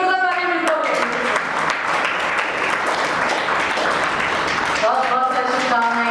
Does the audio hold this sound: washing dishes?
no